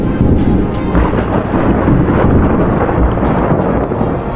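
Thunder rolls in a loud, continuous low rumble, with swelling gusts and a wash of wind or rain noise layered over it, and no voices.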